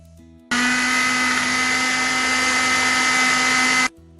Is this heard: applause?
no